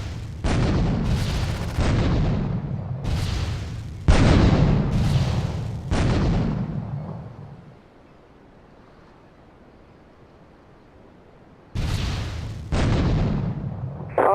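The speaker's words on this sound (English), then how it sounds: "Investigate reports of gunfire and explosions." Gunfire and explosions in the video game GTA 3, a series of loud broadband blasts and bursts near the listener, pausing into a quiet stretch before more explosive bursts resume.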